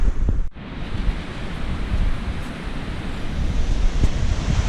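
Strong wind buffets and roars continuously at a hammock campsite in Snowdonia, a loud rushing gust noise with no voices.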